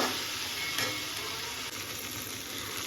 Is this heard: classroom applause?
no